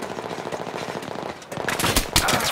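Rapid automatic gunfire in Battlefield 3 on the Strike at Karkand map, a steady rattle of bursts that grows louder and denser in the second half, with sharp loud shots near the end.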